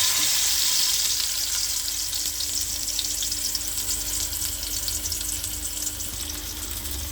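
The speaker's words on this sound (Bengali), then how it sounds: "তেলের ভিতরে ইলিশ মাছটা ছেড়ে দেওয়া হয়েছে" A whole hilsa fish coated in spices frying in hot oil, giving a loud, dense, steady sizzle that eases slightly over several seconds, with no voices.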